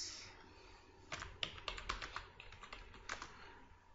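Quiet computer keyboard typing for a Photoshop file, a quick irregular run of crisp key taps close by after a brief pause.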